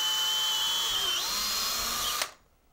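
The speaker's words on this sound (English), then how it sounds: "Make sure that your drill is straight up and down so that you get a nice clean drill through the part." A power drill with a larger bit bores through PVC pipe, a loud steady high whine that dips in pitch as the bit bites, then stops abruptly near the end into near silence.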